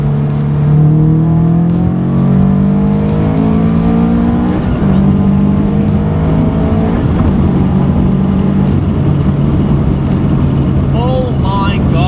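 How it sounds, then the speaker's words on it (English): Car pulling hard in 3rd gear while merging onto a freeway, engine note climbing steadily and loudly from inside the cabin with a brief dip before rising again, as people talk over it. "That was 3rd to 110."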